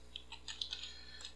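Quiet, close clicks of code being typed on a computer keyboard, a brief irregular run of several keystrokes over a low steady hum.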